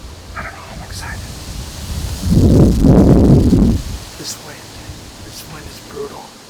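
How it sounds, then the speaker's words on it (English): Strong wind gusts through the woods around a bowhunting stand over a food plot, a steady rushing roar that swells loudly for a couple of seconds in the middle before easing back to a softer background hiss. "This wind is brutal."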